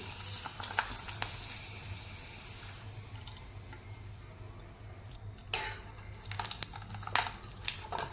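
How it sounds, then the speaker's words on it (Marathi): Semolina papad frying in hot oil, heard as a soft, steady sizzle with scattered crackles and stirring scrapes that recur at close range, fairly quiet throughout, with no speech. "रव्याचे आपले पापड जे आहेत ते आपण तळलेले आहेत"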